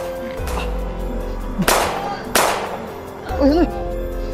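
Two sharp, loud gunshot cracks fire about a second apart, close by, with people shouting and talking around them.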